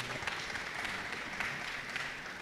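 Faint applause from a small audience at a community ideas forum held in a secondary school, a steady patter of scattered clapping with no voices.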